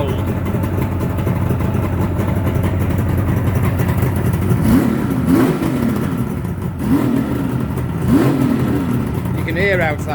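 A stone-cold 1976 Suzuki GT750A motorcycle engine, freshly rebuilt, runs loud and close, holding a steady idle and then revving sharply in two clear bursts near the end.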